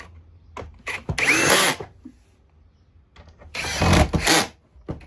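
A power drill drives screws into a Shark during reassembly in two loud whirring bursts separated by quiet handling clicks and taps, close up with no talk.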